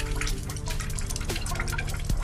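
A cartoon character peeing into a toilet, heard as a steady trickling, dripping stream of liquid over a low background hum, continuous and close for the whole stretch.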